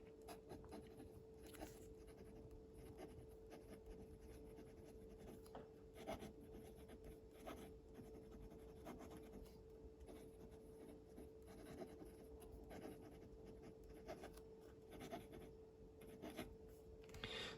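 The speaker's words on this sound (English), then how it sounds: "Let's do some writing." A Hover Pen 3.0 fountain pen writing on paper with Waterman blue-black ink, a faint, steady scratchy rubbing of nib strokes close by over a low constant hum.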